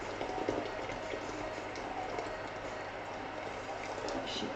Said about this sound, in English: So I've got the pot about half full with water